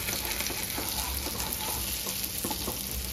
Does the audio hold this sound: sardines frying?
yes